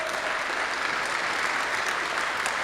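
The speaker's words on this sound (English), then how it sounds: "You guys deserve another round of applause." A banquet and awards ceremony crowd gives a steady round of applause, loud and even from start to finish.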